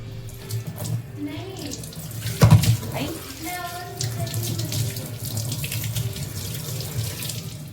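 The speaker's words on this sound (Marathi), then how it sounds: "आता इले धुवून घेतो चांगल्या." Tap water runs steadily into a sink while freshly chopped vegetables are rinsed, with a louder splash of handling partway through and a continuous close, full gush throughout.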